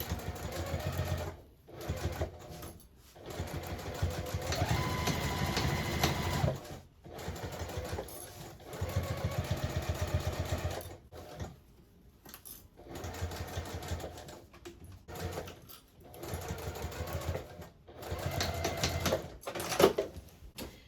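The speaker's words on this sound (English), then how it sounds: "I'm going to sew the entire rest of the way until I get back to about here using that 1/2 inch seam allowance" A sewing machine stitches a half-inch seam on a zippered tote bag, running in bursts of steady, rapid clatter separated by short pauses, close and clear with no talking.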